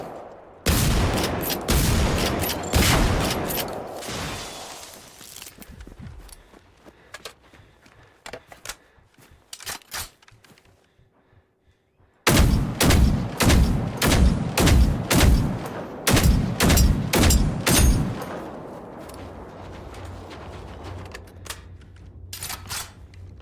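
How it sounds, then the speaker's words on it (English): Tanks fire in the Generation Zero video game, with loud rapid bursts of heavy gunfire in two long volleys separated by a quieter stretch of scattered, fainter shots. "That does sound a bit like there are tanks over there."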